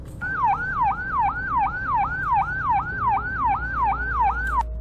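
A rapid yelp-style vehicle siren in the Roblox Greenville game repeats about a dozen quick rising-falling cycles, loud and steady over a low engine rumble, with no talking.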